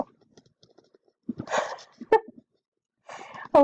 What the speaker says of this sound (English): Took this long in the year for my dog to make a presence known in videos.